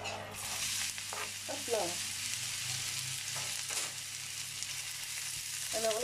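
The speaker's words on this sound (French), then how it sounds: "je ne veux pas faire griller les échalotes, c'est juste histoire de les faire fondre un petit peu" Shallots softening in a pan as a wooden spoon stirs them, a steady sizzle with scraping strokes throughout, while someone speaks briefly over the cooking.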